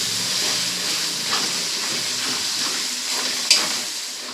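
Spice masala sizzles steadily in a pan with oil and sour yogurt as a chicken gravy cooks down, a constant close hiss with a small sharp crackle near the end.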